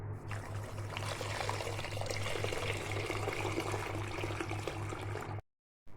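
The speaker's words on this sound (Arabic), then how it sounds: "هنزل عليه بلتر مية" A litre of water poured steadily onto a kilo of sugar to make dessert syrup, a continuous close splashing trickle lasting several seconds over a low steady hum, then stopping abruptly.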